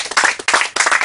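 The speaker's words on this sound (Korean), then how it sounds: "요즘에서 박수 한번 나와야 되는 겁니다." Brief burst of clapping from a small family gathering, a few pulses of hand claps over about a second, close and fairly loud with no talk.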